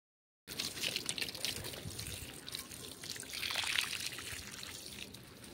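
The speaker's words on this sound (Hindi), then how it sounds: "प्लांट्स को मेरे पानी देने का तरीका।" After a short silence, water is poured onto potted plants in hot summer weather, giving a soft, steady splashing trickle that stays close and faint and swells slightly toward the end.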